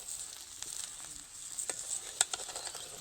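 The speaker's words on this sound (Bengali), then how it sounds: "কুলের সঙ্গে নাড়তে হবে শুধু।" Jujubes stirred with melting sugar in a pan over a low flame give a soft, steady sizzle, with occasional light scrapes and taps of the spoon rising briefly above it.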